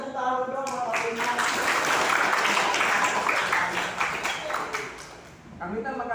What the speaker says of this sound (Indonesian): kasih tepuk tangan dong buat Pak Indra